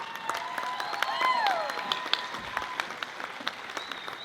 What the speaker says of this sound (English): One big round of applause for the winners from Tahiti, Trio Omega.